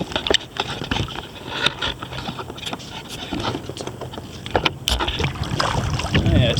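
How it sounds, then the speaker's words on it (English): Kayak paddle strokes through shallow mangrove water at St Lucie Inlet Preserve, with splashes and drips close by, steady water movement and some wind on the microphone; occasional voice sounds underneath. "you're paddling along like I was there, and then suddenly the paddle touches down and you're done"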